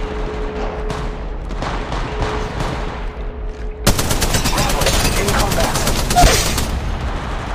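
Sustained gunfire in the mobile battle royale Apex Legends Mobile: scattered shots at first, then from about four seconds a loud, continuous rapid burst of automatic fire that runs close and steady to the end.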